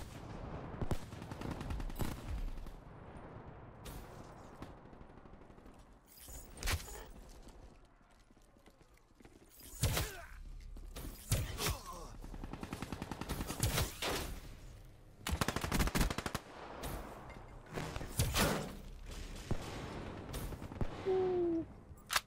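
Bursts of light machine gun fire from the Weevil in Call of Duty Black Ops 3, sharp rapid volleys in several separate clusters with quiet gaps between, plus scattered game effects.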